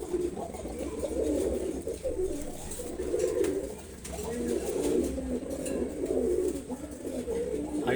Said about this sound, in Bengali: হাড়িতে যেটা বসে আছে এটা হচ্ছে মাদি কবুতর, খুবই সুন্দর।